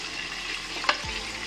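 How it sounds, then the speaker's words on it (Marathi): Onion frying in a pan with bay leaf and chillies, a soft steady sizzle with one brief stirring scrape near the end. "फ्राय करायचा कांदा"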